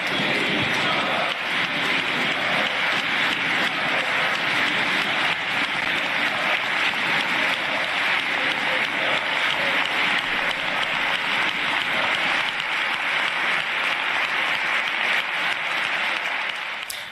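Dense, sustained applause from deputies of PSOE and Podemos standing in the Spanish parliament chamber, a loud, even roar of many hands filling the hall throughout with no break.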